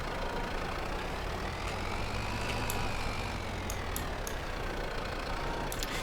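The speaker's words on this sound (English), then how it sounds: "this is going to be our full-time front-loader tractor" A front-loader tractor engine in the farming video game Farming Simulator 22 runs steadily, a continuous low rumbling drone with faint clicks on top and no talking.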